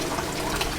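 Water splashes and pours steadily over marinating pork chops, a brief close liquid rush with no talking.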